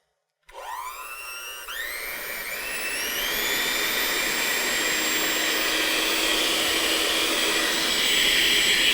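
Cheap electric hand mixer switches on from silence and whines steadily at close range, its pitch rising in steps as it speeds up and then holding a loud, even whir with air rushing.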